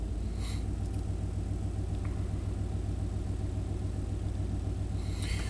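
A 1991 Chevy K1500 pickup engine runs with a slight stumble, a steady, close, low rumbling idle that holds an even drone throughout.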